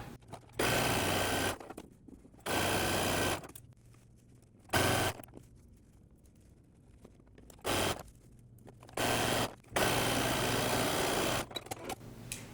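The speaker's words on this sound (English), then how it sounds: "And then I'm going to take this to the sewing machine" A sewing machine stitches a stretched knit neckband onto the neckline of a T-shirt being made into a running top, running in several loud bursts of steady whirring separated by quiet pauses, close by and with no talk.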